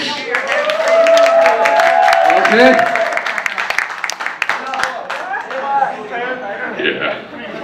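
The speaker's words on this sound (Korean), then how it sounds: "여러분들 박수 치고 막 그러는데" Audience clapping at a live concert, dense applause filling the first few seconds, then thinning to scattered claps under someone speaking over the crowd.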